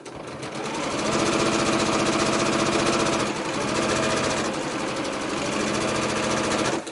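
A sewing machine stitches a quilt block of fabric pieces, running in a fast, even mechanical chatter that stays close and loud, with a slight change in pace partway through.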